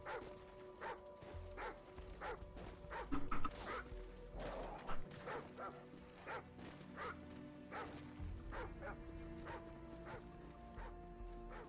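Repeated, fairly regular dog barks ring out in Call of Duty 4: Modern Warfare, with a louder cluster early on, set against a continuous humming game background.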